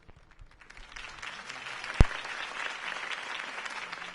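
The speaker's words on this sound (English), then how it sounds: "If only Mr. Wayne, my campaign's largest backer, could have heard that applause" Steady crowd applause for a campaign speech in Batman: The Telltale Series, broad continuous clapping that swells slightly and holds, punctuated by one sharp click near the middle.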